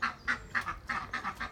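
Ducks quack in quick, rhythmic bursts, a series of nasal calls at moderate distance, faint and uninterrupted by voices.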